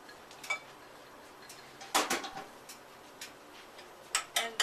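A spoon works cooked zucchini filling into cream cheese with lemon juice and zest in a bowl, giving close, intermittent clinks and soft scrapes in short bursts, with no talking.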